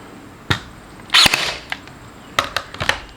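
A DeWalt DCN623 20V cordless pin nailer firing into wood gives one sharp snap with a brief burst, then a few quieter clicks and taps of handling, close up with no talking.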